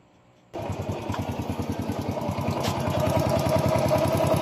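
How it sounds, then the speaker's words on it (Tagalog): A Honda Wave 100 motorcycle engine starts after a quiet moment, then idles close by with a steady rapid ticking from the valves and timing chain, a pulsing mechanical rhythm that continues evenly. "ayan tunog lagitik ng kanyang balbula"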